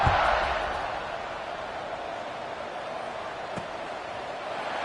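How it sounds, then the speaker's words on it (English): A stadium crowd roars with a steady, dense buzz in the NCAA 26 college football video game, an Indiana University dynasty game against Maryland. The crowd is loudest at the very start, then holds an even wash of noise throughout. "this crowd is buzzing after that last score"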